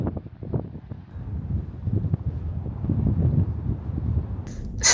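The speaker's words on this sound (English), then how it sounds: "it's so windy outside" Gusty wind buffets the microphone in a continuous low rush on an exposed Irish island overlook, swelling and easing, with a brief hiss near the end.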